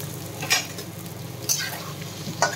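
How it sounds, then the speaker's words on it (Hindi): Potato pieces fry in hot oil with a constant soft sizzle, while a spoon stirs them in three brief scraping strokes at regular intervals, quiet and close. "आलू को तेल रे पुणी भाजी देबा"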